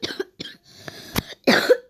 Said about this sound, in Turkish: Bir öksüreyim dedim ya.